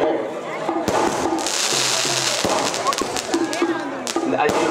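Firecrackers set off on stage during a Tamil village folk drama performance of Srivalli Thirumanam: a series of sharp, loud bangs and pops scattered through the clip over a continuous background of crowd noise and voices.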